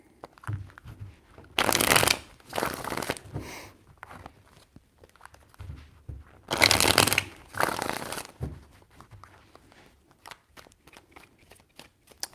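Tarot cards shuffled by hand in three separate bursts of crisp riffling, each lasting about a second, close and fairly loud, with quiet pauses between them.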